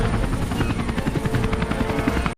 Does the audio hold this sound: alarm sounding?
no